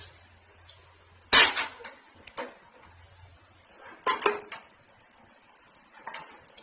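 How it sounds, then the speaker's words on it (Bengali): Mutton biryani poured from a pot into a pressure cooker, with a sharp metal clank, then scraping and a couple more spoon-on-pot knocks, close and otherwise quiet. "বাকিটা আমি কুকারে ঢেলে দিচ্ছি।"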